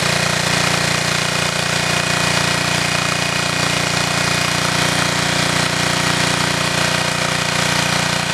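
The engine of an automated firewood processor runs steadily and loudly up close, a continuous droning, knocking hum with no talk.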